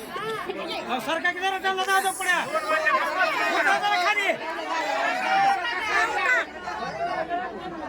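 A large crowd of construction workers queuing in harsh sun in Latur for free household supplies, with loud overlapping chatter and babble of many voices close around.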